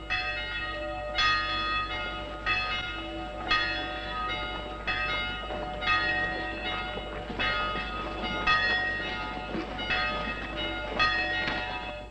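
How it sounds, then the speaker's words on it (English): Church bells ring out in a town, summoning people to the town hall, with repeated clangs over roughly twelve seconds and no talking. "The bells are calling the people to the town hall."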